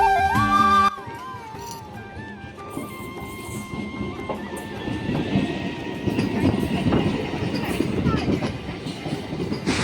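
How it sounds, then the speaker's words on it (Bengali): A train pulls into a railway platform on a hot day, a rising rumble and rattle of wagons building over several seconds, with a brief high tone and station noise at the very start. "তো দেখতে দেখতে ট্রেনটা চলে এসেছে।"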